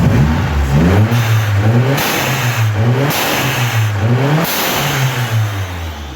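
An Opel Calibra Turbo engine with a newly fitted blow-off valve revs up and down several times in a row, loud and close, with a rising whir on each rev.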